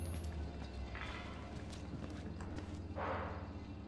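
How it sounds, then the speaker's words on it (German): Footsteps in the horror video game Outlast, a steady run of soft thuds, close and at moderate volume, over a constant low ambient drone. "Ich habe Schritte gehört. 100 Pro habe ich Schritte gehört."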